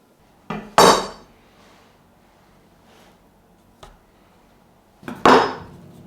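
A knife slices a sausage roll pastry log into short pieces on a board, giving a few sharp separate knocks and taps with quiet pauses between them.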